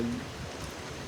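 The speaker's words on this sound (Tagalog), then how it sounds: "kay kusog kayong ulan sa gawas karon, basin madungog ninyo nya kusog kayong ulan sa gawas" Heavy rain falling outside, a dense steady hiss and patter heard briefly from indoors at moderate level.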